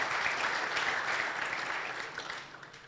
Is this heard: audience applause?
yes